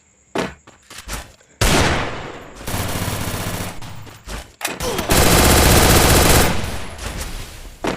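Video game gunfire from a custom match: loud bursts of automatic weapon fire come in several rapid volleys with short gaps between them, including one long sustained stretch near the end.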